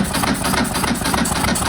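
Ducati motorcycle engine cranks with the throttle held open, a loud continuous rough churning with rapid regular pulses, close up and with no talk.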